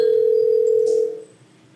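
An SJphone softphone on a computer rings during a 3G GSM VoIP gateway call test, a single steady electronic ringing tone held for about a second before it cuts off into quiet.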